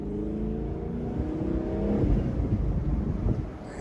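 A Chevrolet Camaro 2SS pulling hard through traffic, its engine droning loud and close as the revs climb and shift through the gears.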